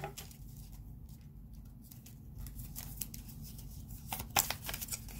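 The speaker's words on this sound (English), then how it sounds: "These cards are really hard to shuffle." Soft riffling and flicking of heart-shaped tarot cards being shuffled, in short uneven bursts close by, with a sharper snap near the end.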